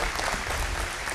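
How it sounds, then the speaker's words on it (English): A conference audience at an aviation flight training event applauds steadily and densely, many hands clapping close together as a continuous loud wash with no voices over it. "So round of applause for Pete Bunce, please, ladies and gentlemen."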